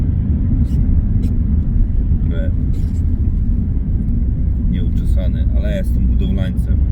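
Steady low road rumble of a car interior on a Friday commute to work, continuous and fairly loud throughout, with a few brief higher squeaks and clicks near the middle and end.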